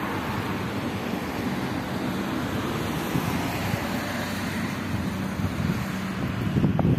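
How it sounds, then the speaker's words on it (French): Steady wind buffets an outdoor microphone beside a roundabout, a continuous low rumbling roar with gusts swelling near the end; no one speaks. "Il y a du vent, j'essaie de cacher un peu"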